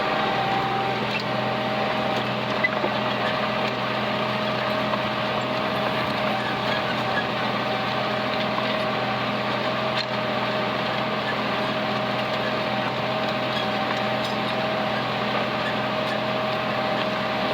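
Steady droning engine of a tractor plowing a wet field, a constant hum with a low, even tone, continuous and unchanging throughout, with no talk.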